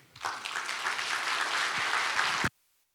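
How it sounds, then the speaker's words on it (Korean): A church congregation at a revival meeting claps to welcome a pastor. Loud, dense applause swells quickly, holds steady for about two seconds, then cuts off abruptly into silence. "큰 박수로 모시겠습니다."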